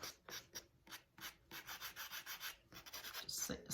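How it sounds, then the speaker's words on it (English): Close, quiet sanding on a sculpted fairy house under its flower petals, made of short rhythmic scrubbing strokes in quick bursts with brief pauses between them. "Just sand under these petals a little bit."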